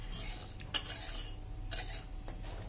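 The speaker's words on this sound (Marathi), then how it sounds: "हे छान फुटेपर्यंत असं आपल्याला हलवून घ्यायचं आहे।" Amaranth (rajgira) is stirred in a pan while it roasts for shira, with a metal spoon scraping and clinking a few times in short strokes, quiet and close, with no talk.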